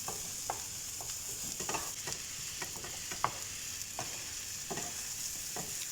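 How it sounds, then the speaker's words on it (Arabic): Boiled broccoli florets stirred together with fried onion and garlic in a pot for broccoli soup, a continuous hissing sizzle broken by regular scraping stirs about every half second. "رح نزل حبات البروكلي المسلوقة وبحركهم مع بعض بهالشكل"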